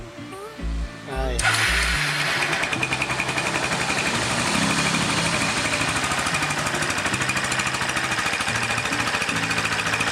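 A quick click and whirring starter, then a Kawasaki Boss 175cc motorcycle engine catches and settles into a loud, rough, steady idle close by, with faint voices under it.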